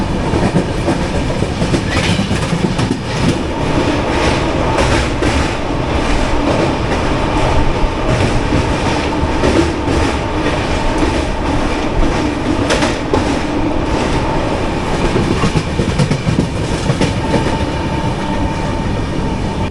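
Jan Shatabdi Express 12077 rolling slowly over a triple-line stretch under track works, heard from an AC chair car: a steady close rumble with rhythmic clickety-clack of wheels over rail joints, continuous and without talk.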